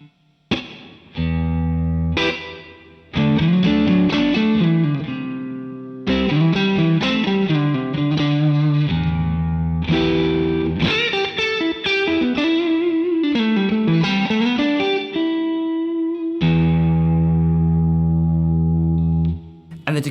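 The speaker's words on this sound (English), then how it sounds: "So you can, from this reverb pedal, get some real epic ambient effects." Electric guitar through an MXR M300 reverb pedal with the reverb cranked up, played as strummed chords and melodic runs that ring out into long, lush, washy tails, loud and close with no talking.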